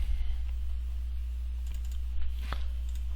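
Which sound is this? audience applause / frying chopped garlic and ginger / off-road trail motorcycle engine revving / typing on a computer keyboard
typing on a computer keyboard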